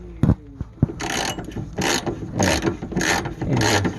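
Hand ratchet fitted with a metric socket, worked on a 1988 Ford Thunderbird during fuel gauge repair, giving repeated close clicking strokes in an uneven rhythm, each burst of pawl clicks followed by a brief pause.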